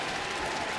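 A dense, steady wash of applause from a baseball crowd at a Florida–Toronto game, filling the whole short moment with no break.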